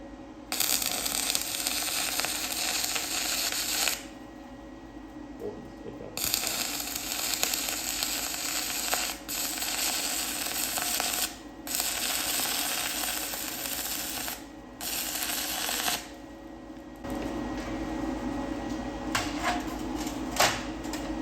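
A YESWELDER 135 hobby welder stick welding 6013 electrodes on steel about 3/16 to 1/4 inch thick gives a steady, loud crackling arc hiss in several long runs, broken by short pauses and no talking.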